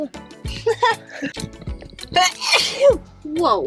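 A young child lets out a single sharp sneeze near the middle, with adults and someone talking and exclaiming around it at close range.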